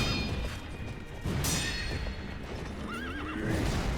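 A startled horse in a video game lets out a loud, wavering neigh near the end, preceded by hoof clatter and a sharp crash-like burst, all set against dense game background noise with no talking.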